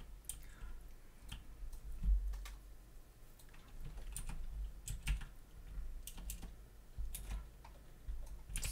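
Someone types on a computer keyboard with quick, irregular clicks and taps, close and clear with no talk over them.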